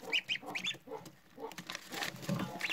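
Goose goslings three to four days old, freshly hatched from an incubator, give repeated high, thin peeps in short bursts, close by, with some low rustling and background noise.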